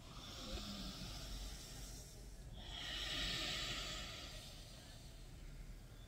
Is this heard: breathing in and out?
yes